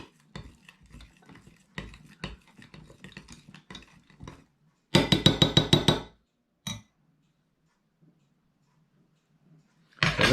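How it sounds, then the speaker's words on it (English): A broken cinnamon stick and seeds being stirred into oil for a homemade organic insecticide spray: several clinks and scrapes, then a loud, dense burst of clattering stirring, a single knock and a final clatter after a quiet pause. "Give all that a nice stir."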